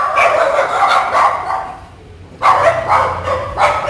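Dozens of rescued dogs at a house in Sa Đéc bark in loud, overlapping bursts, close by, with a brief lull before the chorus of barks and yips resumes.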